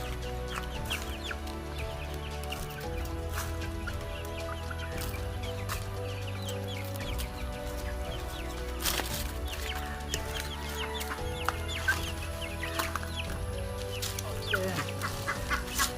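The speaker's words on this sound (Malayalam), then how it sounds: "ഇതാണ് നമ്മുടെ അസീൽ കോഴിക്കുഞ്ഞുങ്ങൾ കേട്ടോ." Aseel chicks, about two months old, clucking and peeping at a poultry sale in Palakkad, a steady chorus of small overlapping calls throughout, close and moderately loud, no talking.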